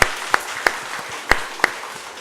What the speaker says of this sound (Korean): 하나님께 우리 영광의 박수 하십시다.